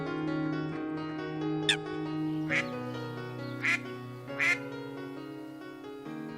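A duck gives several sharp, nasal quacks in short bursts over a background of steady melodic tones.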